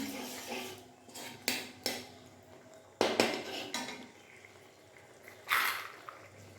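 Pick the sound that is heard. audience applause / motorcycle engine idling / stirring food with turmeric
stirring food with turmeric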